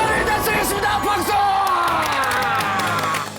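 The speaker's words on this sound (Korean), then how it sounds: "박수!" Cheering and applause from a crowd at a Buddhist TV channel celebration, loud and continuous throughout, with whoops and yells rising above the steady clapping wash.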